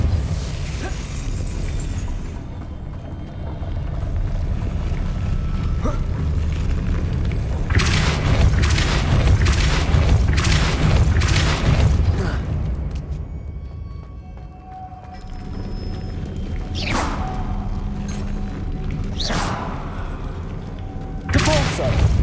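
Repeated Depulso force-push spell casts in Hogwarts Legacy, a run of booming thuds and bursts recurring through the stretch over dense game ambience, with a voice calling out spell names.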